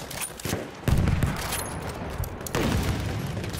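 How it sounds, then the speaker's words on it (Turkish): Bursts of rapid machine gun fire in a video game combat scene, loud and close, with blasts of gunfire recurring across the clip and no talk over them. "Orada bir makinalı tüfek var."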